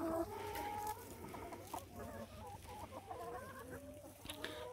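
Several pastured chickens cluck and murmur close by in January, a busy overlapping chatter of short, repeated clucks at a soft level.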